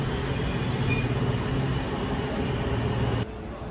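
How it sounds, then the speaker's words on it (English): Washington D.C. metro train riding from Dulles Airport toward the city, a steady loud rumble of wheels and carriage noise with a faint high squeal, continuous throughout and dropping slightly near the end. "Since 2022, you can get to the city from Dallas Airport by metro."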